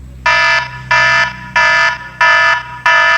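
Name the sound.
iPod touch 4th gen ringtone, Alarm ascending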